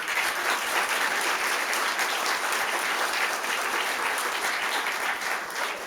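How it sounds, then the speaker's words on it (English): An awards-ceremony audience at a fire department event gives a round of applause, dense steady clapping filling the room for several seconds without a break. "a round of applause for them"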